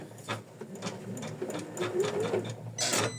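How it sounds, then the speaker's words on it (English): An embroidery machine stitches a placement line for an in-the-hoop floral heart design, its needle running in a quick, steady mechanical chatter at close range with small shifts in pace and no talking. "Just give it 1 millimeter seam allowance, I guess. Then we stitch"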